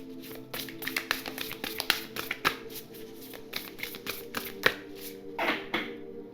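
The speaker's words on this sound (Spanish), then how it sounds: "vamos a barajar este oráculo" Oracle cards being shuffled up close, a quiet series of irregular riffles and soft taps with no talking.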